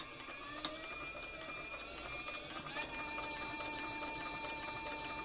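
Industrial cylinder-arm sewing machine with triple feed, sewing without a guide using an open-toe presser foot, running at steady high speed with a continuous whirring, rattling hum, close and loud.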